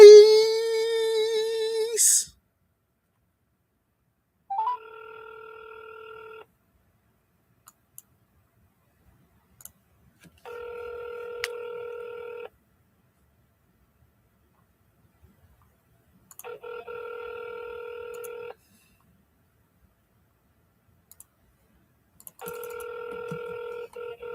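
Outgoing phone call ringback from a real estate wholesaler calling leads: a short burst of tones, then four evenly spaced ring tones separated by silence, clear and close.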